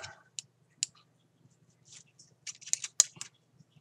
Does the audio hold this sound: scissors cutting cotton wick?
yes